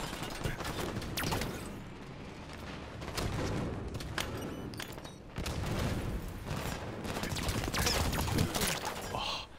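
Sustained gunfire and explosions in a Halo 5 Warzone big-team battle with a Wraith tank nearby, bursts of rapid shots and booms rolling continuously with no break, loud and dense throughout.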